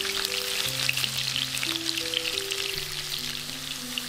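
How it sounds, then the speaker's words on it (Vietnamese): Potato pieces frying over high heat in a pan for vegetarian curry give a steady, dense crackling sizzle, close and constant, with soft background music underneath. "Chiên khoai nó văng lắm, có thể lấy nắp mình đậy lại và chiên lửa lớn."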